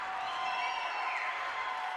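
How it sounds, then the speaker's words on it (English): A high school boys basketball crowd roars after an overtime-forcing shot, a dense, sustained wash of cheering and clapping at moderate distance, unbroken for the whole moment. "The crowd's going crazy"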